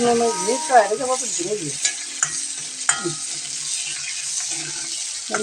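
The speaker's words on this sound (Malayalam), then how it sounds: "ഉള്ളി ഇടുന്നു കടുക് പൊട്ടിക്കഴിഞ്ഞു" Onion frying in hot oil after spluttered mustard seeds, with a constant crackling sizzle under scraping stir strokes of a spoon in the pan while a voice talks in the background.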